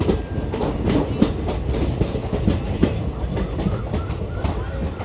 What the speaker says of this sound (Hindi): ये अभी ट्रेन अपनी मेन लाइन पे आ रही है।